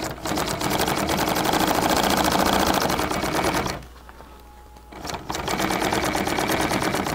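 A sewing machine rattles along the top edge of an acrylic bag in a fast, steady needle chatter, pausing briefly for about a second partway through before resuming, close and loud.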